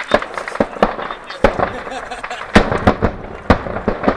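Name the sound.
ammunition truck exploding like fireworks after artillery strike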